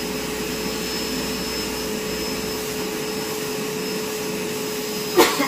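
A Bissell Bark Bath pet bathing vacuum runs steadily with a loud, constant whooshing drone and a faint high whine, ending with a brief knock or handling bump near the end.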